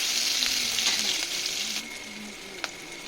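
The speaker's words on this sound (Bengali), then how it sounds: "পেঁয়াজ কুচিটাকে একটু লাল লাল করে ভেজে নেব" Chopped onion frying in oil with whole spices for a cauliflower and fish curry, a steady close sizzle that drops slightly partway through, with a few faint clinks of stirring.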